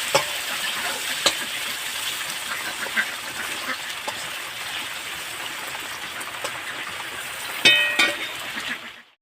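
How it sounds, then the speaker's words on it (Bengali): Potatoes frying over a black cumin tempering, stirred in the pan: a steady broadband sizzle throughout with scattered scraping clicks of the spatula, and a louder burst of stirring near the end before the sound cuts off. "দিয়ে আমি এটাকে 2-1 মিনিট নাড়াচাড়া করে একটু ভেজে নেব"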